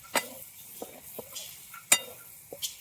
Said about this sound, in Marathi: वरून टाकू गरम मसाला, एक वेळ परतून घेऊ मस्त